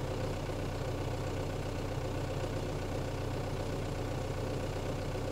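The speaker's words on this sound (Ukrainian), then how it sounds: "Значить, працюємо зараз на холостих обертах." A LOVOL 1054 tractor engine idles at low revs, a steady, loud, close diesel rumble with an even throbbing pulse and no voices.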